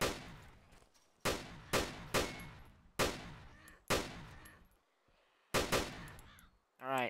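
Gunfire in ARMA 2: DayZ OverPoch mod, a series of about nine sharp, loud shots in an uneven rhythm, each with a ringing decaying tail, ending in a short warbling electronic chirp.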